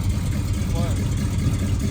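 A carbureted Camaro engine with no choke idles low in the cold, a steady rumbling drone running under people's conversation throughout.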